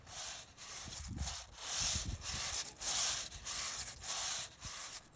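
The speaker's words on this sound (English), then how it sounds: "we brush it in with a stiff brush" A stiff brush scrubbing cleaning solution into a stained outdoor patio tile, loud rhythmic back-and-forth rasping strokes, about one per half second, close and continuous with no talk.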